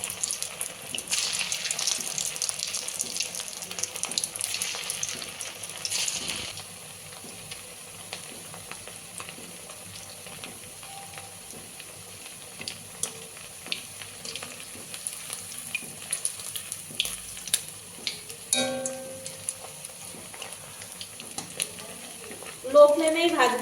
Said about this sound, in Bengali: লো ফ্লেমেই ভাজবো, তাহলে ভিতরটা খুব সুন্দরভাবে ভাজা হয়ে যাবে আর মুচমুচেও হবে